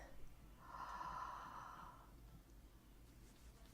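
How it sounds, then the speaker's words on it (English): A singer takes a deep, audible breath through the nose and mouth to show the inhalation used for singing, a single close, airy intake lasting about a second and a half before fading to quiet. "So when I breathe,"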